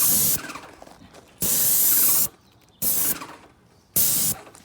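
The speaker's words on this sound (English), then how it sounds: "So as I'm spraying this like this, you want to keep your sprayer like the same distance as you're painting." Paint sprayer coating kitchen cabinets, loud hissing bursts of about a second each, switching on and off four times with short quiet gaps between.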